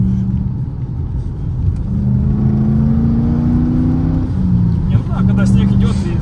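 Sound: BMW car accelerating in snow

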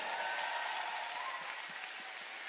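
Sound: audience applause at concert

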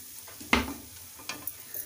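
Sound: stirring pav bhaji masala into the mix in a pan

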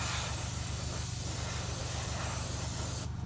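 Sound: airbrush blowing air to dry ink paint

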